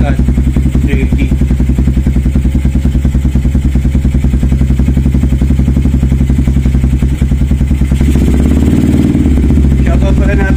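An enduro-style dirt bike engine runs loud and close with a rapid, rattling beat, holding a steady pitch before a brief rise in revs near the end; a voice talks over part of it.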